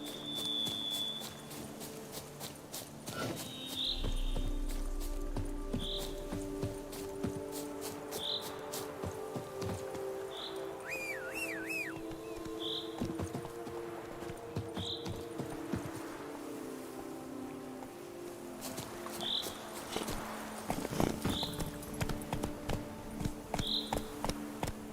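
Horse hooves clip-clop at a steady, regular pace in The Witcher 3, fairly faint under a bed of ambient game sound with insect-like buzzing and occasional soft chirps.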